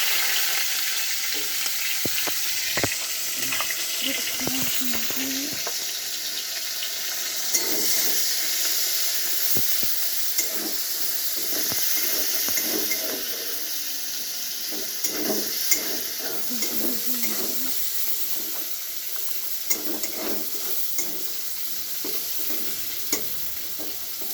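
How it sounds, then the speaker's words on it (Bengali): Sliced onions sizzle steadily in hot oil for a soybean roast, a continuous close frying hiss with occasional stirring scrapes and spatters throughout, no talking. "তেল গরম হয়ে গেছে। এবার প্রথমে আমি পেঁয়াজ পুরো তেলের উপরে দিয়েছি।"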